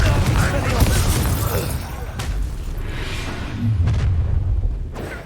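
A Confringo blasting spell explodes in Hogwarts Legacy, a dense rumbling boom that swells and lingers for several seconds with layered crackling debris and a second surge near the end, loud and close.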